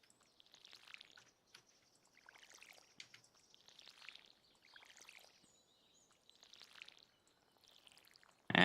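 Watering crops with a watering can in Stardew Valley: a series of about six short, soft splashing pours in a steady rhythm, faint and close, with a louder burst at the very end.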